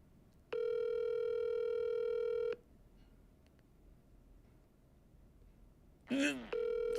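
Telephone call tones: a steady dial-type tone holds for about two seconds, then after a quiet pause a quick burst of dialing beeps leads into another tone, all clear and close with no talking.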